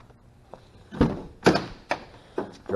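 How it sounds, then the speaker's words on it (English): Several hollow thunks in a row from the driver's side door of a 1999 Honda Prelude being worked open and shut, close by with short gaps between them. "Driver's side door."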